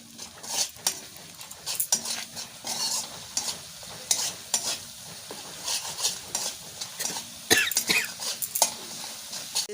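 Spice paste with turmeric frying in a pan for a Bengali eggplant dish, a steady sizzle broken by repeated scraping and stirring strokes and clinks of a utensil against metal, close and fairly loud, with a cough.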